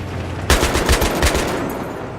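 Machine gun fire from a tank-mounted gun in the video game Battlefield 3, a sudden loud burst of rapid, rhythmic shots that starts abruptly and keeps rattling close up, with no talk over it.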